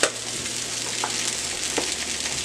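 An egg sizzling in a hot pan for shrimp fried rice, a steady bright crackle with faint spatula scrapes, alone and close.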